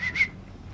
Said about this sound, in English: We're gonna have to whistle him over and take him out stealthily.